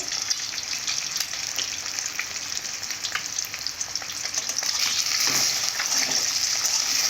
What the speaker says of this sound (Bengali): লবণ দেওয়ার পরে আমি ডিমটাকে ভেজে নেব